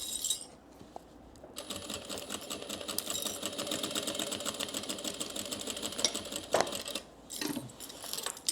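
Sewing machine backstitching over a seam on a gift bag, a steady rapid mechanical whir running for several seconds, close and alone, with a brief pause and faint handling clicks near the end.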